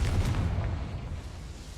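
A fire spell in the Hogwarts Legacy video game goes off as a dull, booming burst that fades into a rumbling tail, brief and alone.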